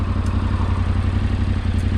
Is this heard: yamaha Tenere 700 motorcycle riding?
yes